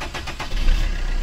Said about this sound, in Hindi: गाड़ी हमारी स्टार्ट हो गई है